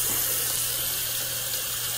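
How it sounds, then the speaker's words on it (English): Warm water runs from a bathroom sink tap in a steady, unbroken gushing stream, close and even throughout with no voices. "I'm going to run just a little bit of warm water"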